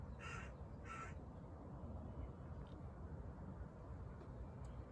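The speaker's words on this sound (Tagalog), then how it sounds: "Uwak. Nasaan?" Two distinct crow caws ring out in quick succession from some distance, followed by a steady, quiet outdoor hum.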